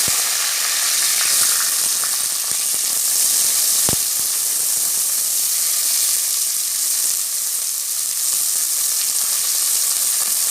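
Onions with fresh mint leaves sizzle and fry steadily in a hot pan for Tamil-style pea kurma, a continuous close hiss of oil with a brief sharp clink midway and no talking.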